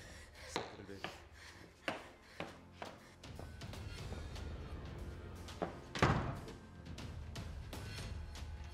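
A door pushed shut indoors, with a heavy thunk near the end that follows a few scattered knocks and shuffling, all fairly faint under a low room hum.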